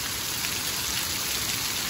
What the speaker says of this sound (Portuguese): Aqui é chuva grande, chuva boa